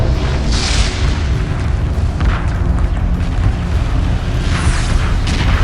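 Heavy weapons fire in the space strategy game Homeworld 2 Remastered, heard as loud, continuous rumbling booms and explosions with a few sharper bursts, dense and unbroken throughout.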